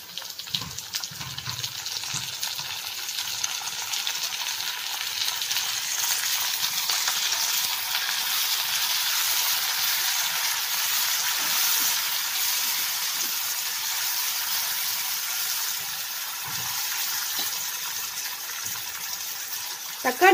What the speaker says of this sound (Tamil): தக்காளி நல்லா வதங்கிக்கோங்க